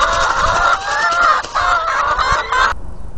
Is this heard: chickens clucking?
yes